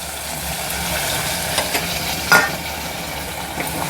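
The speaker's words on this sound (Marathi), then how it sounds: "आता आपण थोडं पाणी घालूया" Water poured into a hot pan of spiced stuffed brinjal in oil, a steady close sizzle and hiss with a sharper burst partway through, no voices.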